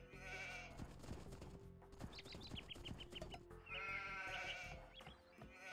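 Repeated sheep bleats in Age of Empires II HD, several in quick succession, over a busy bed of game sound effects and clicks; no talking.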